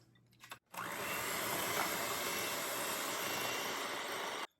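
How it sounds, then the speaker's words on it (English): An electric mixer beats softened butter and sugar in a large bowl, a loud steady motor whir that starts abruptly after a brief pause and runs continuously before cutting off. "using an electric mixer, beat until it's creamed and smooth"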